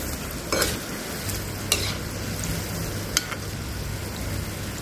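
Shankarpali sweets bubble in hot oil with a soft, steady frying hiss, broken by a few brief crackles and clinks.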